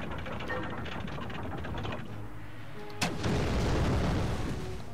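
A grenade explosion in Turok 3: Shadow of Oblivion. A sudden burst swells into a rolling roar over steady, noisy game background.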